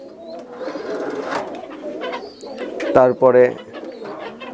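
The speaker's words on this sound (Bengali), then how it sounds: "এখানেও গোল্ডেন কবুতর, মাশাল্লাহ দুইটা বাচ্চা নিয়ে আছে" Golden high flyer pigeons coo in a loft, with soft repeated coos running through and a louder pair of throaty coos near the end, while someone talks over them.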